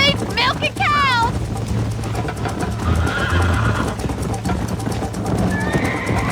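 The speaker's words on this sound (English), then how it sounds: "I think you chose the wrong horse, Miss McFarland." A horse neighs with a rising, wavering whinny near the start in Red Dead Redemption, over a busy mix of galloping hooves and synthetic game-like background noise.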